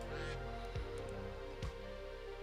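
A duck behind a man gives a few hoarse honks, one early and more around the middle, close and moderately loud against a steady hum.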